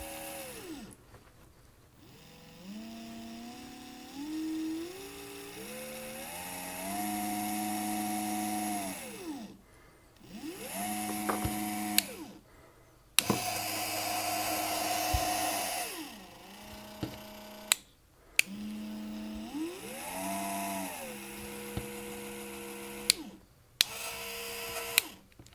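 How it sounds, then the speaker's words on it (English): A geared motor salvaged from a bread machine and run from a bench power supply whirs in repeated runs, rising and falling in pitch with a slightly grating mechanical edge and sharp clicks between cycles. "It's a little bit grating. This motor has a built-in gearbox to step it down."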